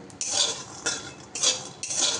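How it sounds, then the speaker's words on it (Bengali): Peanuts with a little salt are dry-roasted in a pan and stirred, giving four scraping, rattling sweeps in a steady rhythm, close and fairly loud with no voices. "পুর করব বলে বাদামটাকে শুকনো খোলায় একটু ভেজে নিচ্ছি"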